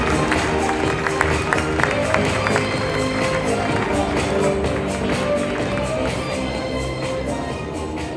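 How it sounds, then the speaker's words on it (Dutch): Audience applause greets two guests walking on at an evening event, a steady dense wash of clapping and crowd noise holding for several seconds with no talk over it. "Dames en heren, uw applaus voor Jamie de Peek en Thomas Jans."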